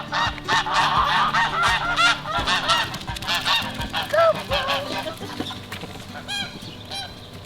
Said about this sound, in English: goose fight.